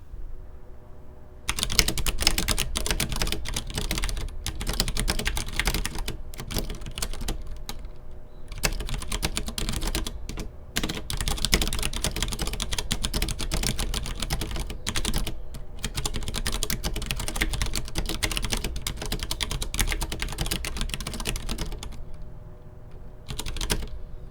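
Continuous rapid clacking of a Vissles V84 2.0 mechanical keyboard being typed on, close and steady, with a few brief pauses between bursts.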